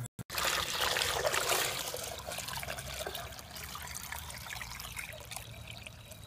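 Water drains steadily from a container's spout with the spout turned down, a continuous trickling, splashing flow that starts abruptly and runs on close and steady.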